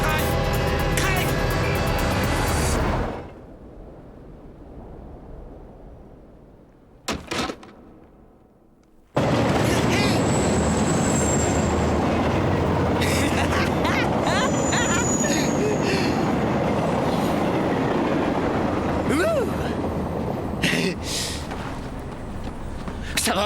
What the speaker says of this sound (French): C'est dangereux, le train arrive, reste pas là!